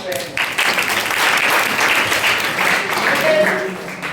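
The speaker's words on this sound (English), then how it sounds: "Give me big round of applause, please." Students applauding in a classroom during an English demo lesson, a loud round of clapping that swells after a moment and runs for several seconds, with some voices underneath.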